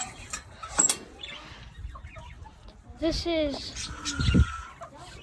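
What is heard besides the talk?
chickens clucking on a farm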